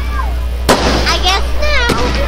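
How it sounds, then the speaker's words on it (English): Fireworks burst in the night sky as two sharp, loud booms about a second apart, echoing briefly. People talk excitedly between and after the blasts. "Sounds of fireworks, guys."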